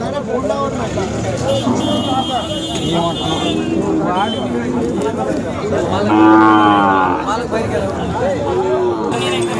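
Khillar cattle at a busy outdoor cow market, with a loud nearby moo rising over continuous talk and crowd chatter, plus faint vehicle noise in the background.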